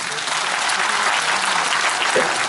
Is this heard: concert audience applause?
yes